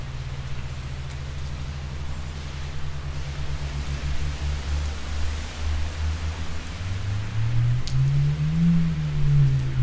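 Raindrops fall in a continuous, even patter, with a low droning hum underneath that swells and rises in pitch toward the end.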